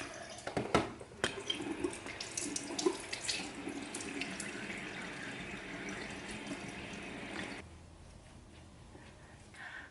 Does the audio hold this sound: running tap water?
yes